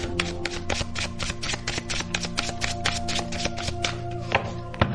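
Tarot cards are shuffled and drawn in a rapid series of crisp riffling taps, close and fairly quiet, with a couple of sharper snaps near the end.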